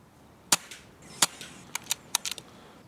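Air rifle firing Air Arms pellets outdoors, two sharp cracks followed by several lighter clicks and taps, with no voices.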